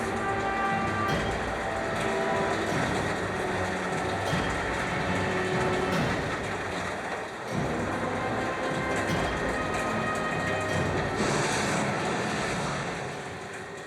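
Inside an old cotton-cleaning factory in Benin, heavy machinery roars as one loud, dense, constant din with droning tones, filling the space with no voices.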